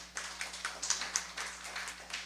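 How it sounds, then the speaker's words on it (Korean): Sparse, soft clapping from a small church congregation honoring an elder, a few faint, slightly ragged hand claps repeating steadily for a couple of seconds. "박수 한번 쳐드려요."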